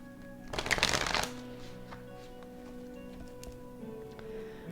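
Playing cards are shuffled in a quick riffling burst lasting about a second, close and crisp, followed by quieter soft handling and faint ticks in a calm room.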